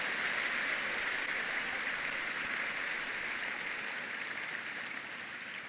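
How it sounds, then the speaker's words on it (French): A church congregation claps and applauds together in a steady, dense wash of hand claps that fades gradually toward the end, with no voices over it. "Give the Lord a big hand of praise."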